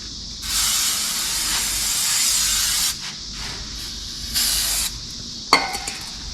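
Brake cleaner sprayed from an aerosol can during wheel bearing work, two long loud close hissing bursts separated by a pause, then a short clank, no talking.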